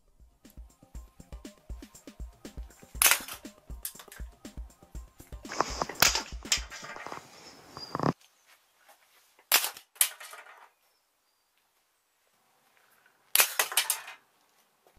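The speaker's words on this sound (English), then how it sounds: "It should last around 3 or 4 shots before you need to apply more hairspray." A hairspray-powered Nerf gun fires in several sharp, close, loud pops, separated by pauses and quieter handling clicks, with no talking.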